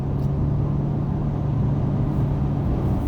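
A steady, loud engine drone with a constant low hum throughout, a 2024 BYD Sealion 6 SUV accelerating hard from a standstill with slight wheel slip, with no voices.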